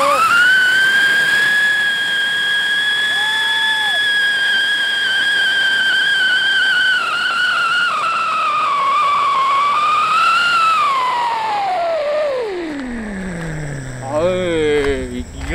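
A whistling firecracker with holes gives a loud, sustained flute-like shriek with rich overtones for about twelve seconds, then its pitch dives and warbles as it fades.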